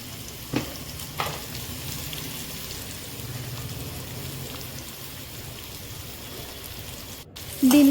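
Finely chopped onion frying in oil with green chillies and curry leaves, a steady soft sizzle with occasional stirring scrapes and a louder clatter near the end; no talking.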